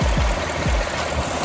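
A 2015 Chevrolet Silverado High Country engine runs with a steady, dense low rumble and a few deeper pulsing thumps, heard close and alone.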